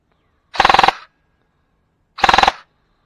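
A G&G ARP9 airsoft gun fires two short full-auto bursts a second apart, each a rapid, crisp rattle of shots, close and loud against near silence.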